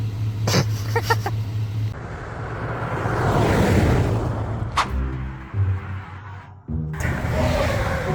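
An old restored truck tearing through a field, its engine droning under heavy rushing wind buffeting the microphone, with a few knocks and bumps and a sudden drop partway through.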